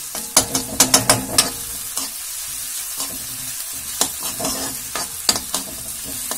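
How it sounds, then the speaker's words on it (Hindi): Onions frying in a pan for an okra (bhindi) dish, with a loud close sizzle and a burst of quick spatula clacks early on, then occasional scrapes and taps against the pan. "मैंने प्याज भुन रहा है"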